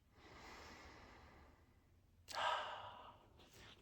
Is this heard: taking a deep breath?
yes